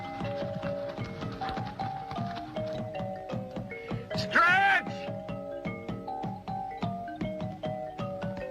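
Horse hooves clip-clopping in a Western action movie scene, a steady rhythmic clatter of several hoofbeats running under a musical score, with a brief whinny-like swell near the middle.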